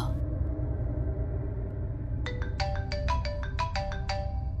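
A low background hum runs throughout, then partway in a bright electronic phone ringtone plays a quick repeating melodic pattern of short, clear tones.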